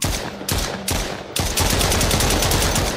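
Rapid video game gunfire in the Home Alone game, a few short bursts and then one sustained automatic stream of loud, close shots with no talking.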